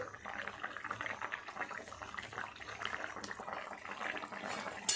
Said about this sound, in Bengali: ঝোলটা টকবক করে ফুটছে